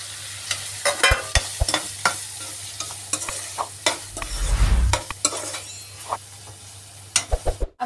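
Fried potatoes tipped into a pan of sizzling masala and stirred, with steady frying hiss, repeated spoon scrapes and clinks against the pan, and a louder sizzle swelling midway as the potatoes go in.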